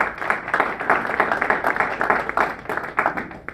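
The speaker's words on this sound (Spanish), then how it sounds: "Si es para Cristo, un fuerte aplauso." Church congregation clapping loudly for Christ, a lively, fairly close burst of many hands with uneven rises and dips in intensity over a few seconds, with no voices.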